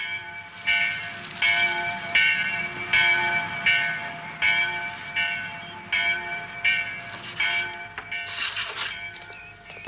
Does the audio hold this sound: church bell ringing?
yes